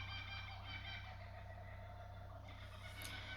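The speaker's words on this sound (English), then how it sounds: "Can you guys hear the kookaburras?" Distant kookaburras cackle in a rolling laughing chorus, faint beneath a steady low hum.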